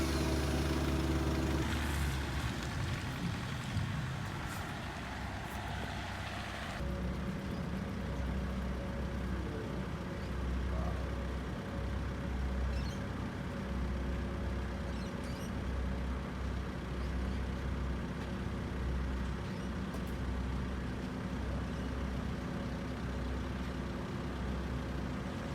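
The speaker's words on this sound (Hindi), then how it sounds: "वो गाड़ी जो है ना इस फेरी के ऊपर आ रही है।" Car driving onto a car ferry in Sydney, a steady low engine rumble with idling and rolling noise, a louder clatter early on, then continuous mechanical hum throughout with no talking.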